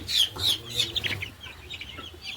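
Crested fancy chickens from Kottakkal cluck in a lively burst of close calls at the start, then quieter scattered clucks over a soft low hum.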